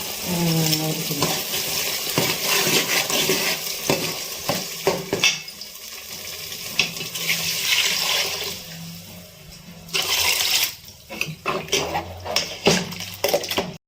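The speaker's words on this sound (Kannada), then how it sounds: "ಈಗ ಸಾಂಬಾರ್ ಕುದೀತಾ ಇದೆ ಚೆನ್ನಾಗಿ." Sambar with ground masala bubbling in a pot, a loud close churn of boiling and stirring with a brief quieter stretch before the bubbling swells again.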